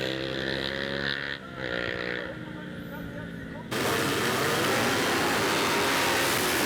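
A Yamaha R1 motorcycle races down a straight at a street race, its engine roaring close and loud; the sound steps up abruptly midway to a harsh, full-throttle wail that holds steady to the end.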